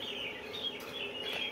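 Birds at a pigeon coop give faint, thin chirping calls in short bursts over a quiet, steady background, with no wing flapping or talk standing out.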